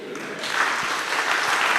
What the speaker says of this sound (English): another round of applause for Samuel Annan Simons.